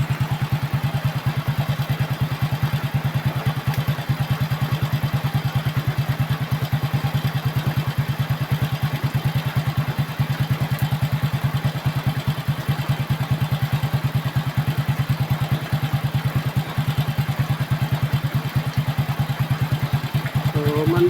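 Honda XRM motorcycle engine idling steadily after being started, a fast, even, close putter that holds a constant tempo with no revving throughout.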